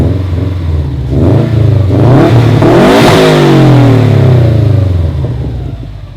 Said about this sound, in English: That means the car is sufficiently warmed enough for a rev.